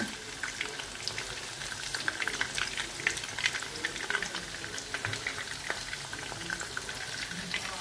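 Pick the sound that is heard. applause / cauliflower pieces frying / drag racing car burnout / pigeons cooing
cauliflower pieces frying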